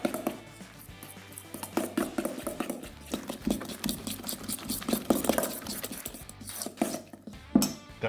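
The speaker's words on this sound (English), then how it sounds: "Then we give it another mix." Cooked lentil patty mixture being stirred and mashed in a bowl, giving soft, wet patters and scrapes with occasional utensil clinks, close by and continuous without speech.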